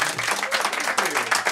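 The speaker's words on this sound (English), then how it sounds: "You should applaud them because it's hard to make a record." Audience applause for a band during a radio station interview, a dense burst of many hands clapping steadily throughout, loud and close, with no talk over it.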